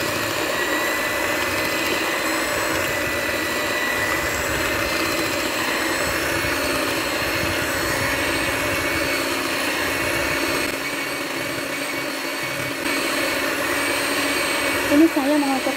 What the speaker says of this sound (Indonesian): Nah, ini dicampur rata ya, saya menggunakan mixer.